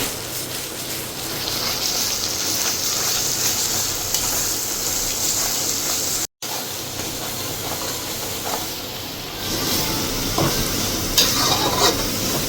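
Garlic paste frying with mutton curry masala in a pan for spicy mutton kosha, giving a steady loud sizzle and hiss for most of the stretch, broken by one brief silent gap, with stirring scrapes and no talking.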